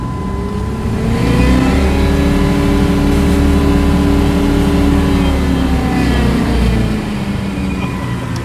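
A Jeep engine runs loud and steady close by, revving and holding high for several seconds before easing back, with no talking over it.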